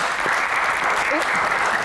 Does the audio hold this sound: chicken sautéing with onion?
no